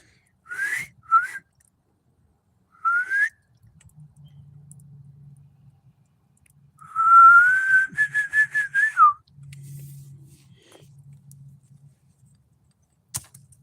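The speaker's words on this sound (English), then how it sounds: "I heard somebody whistle. I'm trying to whistle back." Whistled phrases from a person at a campsite at night, several short rising calls then a longer warbling run, fairly close and clear, with soft rustling and low background noise between them.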